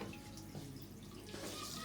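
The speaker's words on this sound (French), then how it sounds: "Lave les mains pour ne pas être infecté par des virus." Hands being washed under a running tap at a sink, a faint, steady stream of water with soft splashing and no voices.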